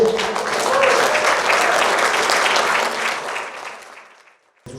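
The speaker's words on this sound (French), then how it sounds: "Si vous voulez bien les applaudir." Hall audience applauding guests invited onto the stage before a French youth orchestra's concert: loud, dense clapping that holds steady, then tapers and fades away near the end.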